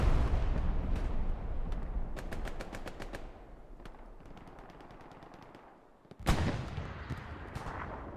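Gunfire in Hell Let Loose: a loud burst of rapid machine-gun-like shots, then a spaced run of sharp reports fading down, and a heavy artillery-style blast near the end followed by more scattered shots.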